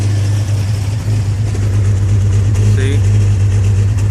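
A Jaguar XJ engine idles close by with a steady, heavy low rumble and an uneven misfire, while someone talks briefly over it.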